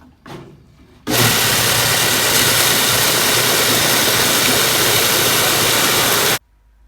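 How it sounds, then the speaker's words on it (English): A homemade belt sander built long ago runs loud and steady for about five seconds, a dense broadband roar that starts abruptly and cuts off just as suddenly, with no talking over it. "now we'll go and sand it on my sander. Sick little belt sander setup."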